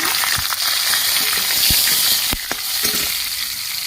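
Chopped tomato tipped into a hot pan of oil bursts into a steady, close sizzle, with a few sharp clatters of utensil against the pan over the hiss.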